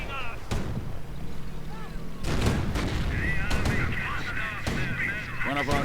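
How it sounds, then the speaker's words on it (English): An anti-tank gun in a WWII strategy video game fires amid a busy battlefield mix of booms and gunfire, with a commentator talking over the action throughout. "Ostwind taking direct hits from the anti-tank gun"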